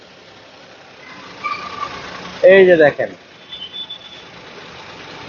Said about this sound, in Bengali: এই যে ট্রাক কিন্তু স্টার্ট দিয়েছে